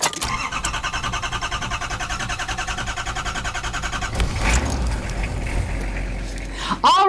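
A bus engine idles with a steady, rhythmic chugging, then starts up louder with a surge and a whoosh near the end, heard close and alone.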